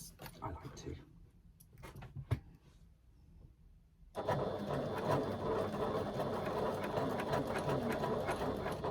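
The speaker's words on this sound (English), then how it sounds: "I'm gonna go around and do a second line of stitching at 1/8 of an inch" A Classico MK2 sewing machine runs a second line of stitching with a fine size 14 needle, starting after a few seconds of quiet handling and continuing as a steady close whir.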